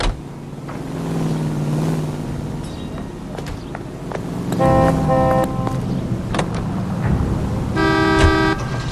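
A car drives through city traffic in the detective game L.A. Noire: a steady engine drone runs throughout, with car horns tooting loudly in short bursts around it.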